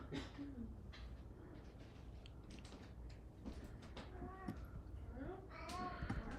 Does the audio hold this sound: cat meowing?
yes